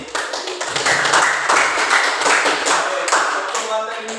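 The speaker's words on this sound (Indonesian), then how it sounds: "tepuk tangan untuk Feby." A class claps for a classmate named Feby, a scattered, moderately loud patter of hands from a small group, with a voice briefly heard under it.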